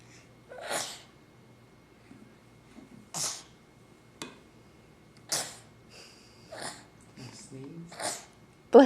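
A young child sneezes repeatedly indoors, several short bursts spread across the clip, close and fairly loud, with an adult speaking softly between them.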